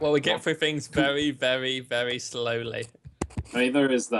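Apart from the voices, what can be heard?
No distinct noise like a dog, phone or traffic.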